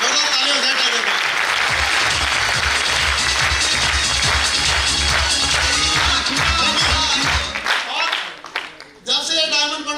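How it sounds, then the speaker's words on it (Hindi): A large audience breaks into loud, sustained applause and cheering at a motivational sales event, a dense wash of clapping that continues for several seconds before thinning out near the end as voices rise over it. "2 लाख ताली हो जाए टाइगर पे।"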